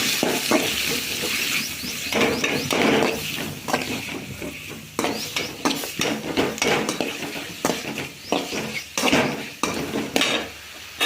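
Onion sautés in a pan with mustard seeds and curry leaves, a close sizzle broken by frequent scraping and clanking of a metal spoon against the pan.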